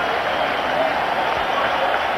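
Rapturous crowd applause for Sachin Tendulkar's half-century at the 1996 Cricket World Cup, a dense, steady roar of clapping and cheering from a large stadium audience that holds at the same level throughout.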